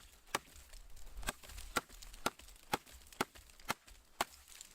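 A JAK bushcraft knife chops into wood in eight sharp, evenly spaced strikes, each a crisp close-up thwack over a faint background hiss.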